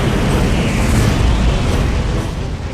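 A loud Big Bang explosion sound effect from a space documentary: a dense, roaring rumble that holds steady for about three seconds with no talking, then eases slightly at the end.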